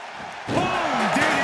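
A wrestler crashes onto the mat from an inverted DDT during a WWE triple threat match: one sudden heavy impact over a roaring arena crowd, followed by a commentator talking excitedly.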